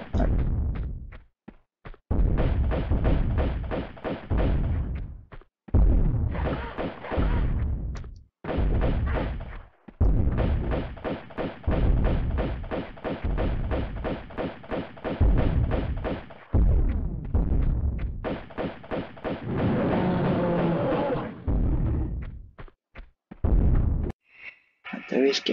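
Repeated shotgun blasts fire in rapid rhythmic bursts in Tomb Raider 2 on the Great Wall level, heavy booming volleys separated by short gaps, with someone talking now and then over them.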